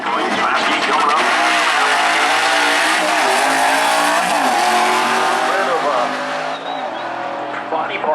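A 1989 Mustang drag race car with a 302 cubic-inch engine roars loudly and steadily down the track at a Maryland raceway, a sustained dense engine wail lasting throughout with a slight dip near the end and faint commentary in the mix.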